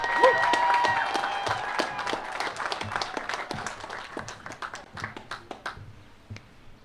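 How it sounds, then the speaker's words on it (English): An audience claps at a high school senior awards ceremony, the applause starting full and dense, then thinning into scattered individual claps before fading out. "that deserves a round of applause"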